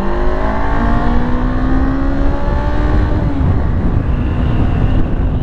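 A 2018 Honda CB500X motorcycle engine revs and pulls through rising gear changes, a loud, continuous drone mixed with strong wind rush, heard from on the bike while riding.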